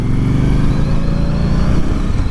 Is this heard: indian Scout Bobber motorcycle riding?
yes